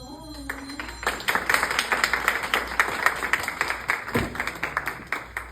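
A small audience at a mental health event claps for a speaker, a close and fairly sparse run of individual claps with a short voice at the start and a brief cheer midway.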